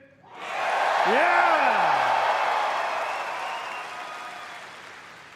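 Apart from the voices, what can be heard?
crowd cheering and applauding at BlizzCon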